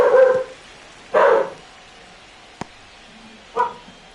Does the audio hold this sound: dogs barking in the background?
yes